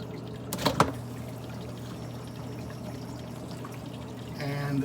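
Water drains in a short trickle from a Fluval FX canister filter: a brief splashy pour near the start, then a faint steady flow under a low hum, with a small burst of gurgling at the end.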